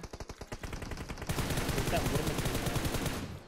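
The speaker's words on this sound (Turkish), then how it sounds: "Bunlar onları bastı, vurdu galiba." Rapid automatic gunfire in a video game, a dense burst of repeated shots that starts as distinct pops and swells into a loud continuous volley, with faint voices underneath.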